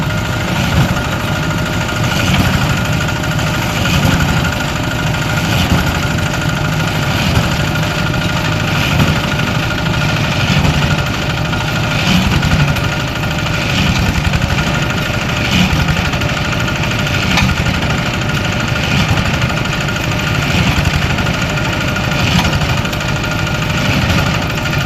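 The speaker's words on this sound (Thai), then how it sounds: "เครื่องจักรทำงานโอ้" Machine running, a loud steady mechanical drone with a rhythmic knocking pulse repeating every second or so, close and unbroken, no talk.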